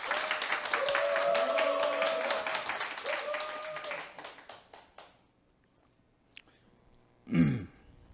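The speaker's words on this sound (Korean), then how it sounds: "박수 한번 부탁드립니다." Audience applause in a Korean lecture hall, a broad clapping wash lasting about five seconds under a tonal vocal sound, then fading to quiet before a short burst of voice.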